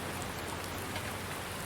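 Rain falling in the farming game Farming Simulator 19, a steady, dense hiss of drops pattering on surfaces, even and unbroken throughout with no voices.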